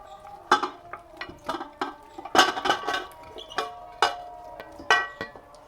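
Beef trotters are dropped one by one into a metal pressure cooker, giving a series of irregular clunks and knocks with scraping between them, close and with no talk.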